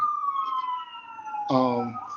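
A wailing emergency vehicle siren whose tone slides downward, then shifts abruptly into a harsher, buzzy yelp, loud and close.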